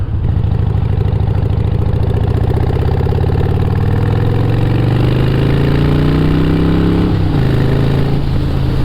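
Harley-Davidson Evo Sportster motorcycle idling up close, a loud steady low throbbing rumble with a slight rise in pitch late on, alone without talk.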